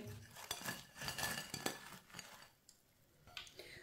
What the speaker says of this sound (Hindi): अब इसे प्लेट में डाल लेंगे।